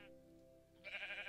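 A single Minecraft sheep bleat, short and faint, rising near the end over quiet background game music.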